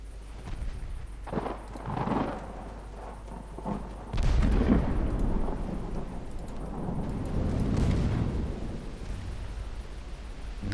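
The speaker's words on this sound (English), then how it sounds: "We're scoring some torpedo hits." Torpedo hits strike warships in a stormy naval battle in Ultimate Admiral Dreadnoughts, heard as deep rumbling booms and surging roars over a steady low rain-like wash, with a heavier impact swell near the middle.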